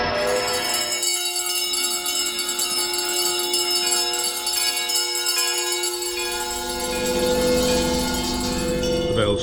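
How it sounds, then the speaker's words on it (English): Several bells ring together in a dense, sustained clang with long ringing overtones, filling the space loudly and evenly before fading near the end. "The bells ceased as they had begun together."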